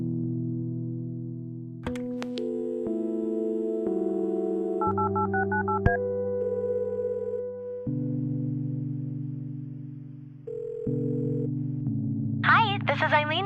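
Phone dialing in the video game Kathy Rain: a run of stepped electronic keypad tones changing pitch every second or so, clear and upfront, ending in a brief burst of a ringing or connecting signal.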